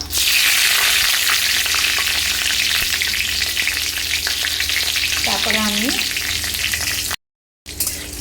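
Slit green chillies hit hot oil with bay leaves for a bottle gourd curry, a loud steady sizzle with stirring clatter, a brief squeak of the utensil, then a short cut-out before the frying resumes.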